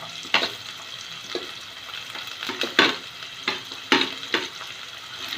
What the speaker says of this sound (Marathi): आपण याच्यामध्ये कांदा कलपत्ता मिरची घालू याच्यामध्ये ते कॉन आणि गाजर घालूया